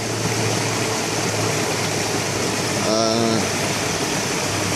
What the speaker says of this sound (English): That waterfall is a little deeper than I thought.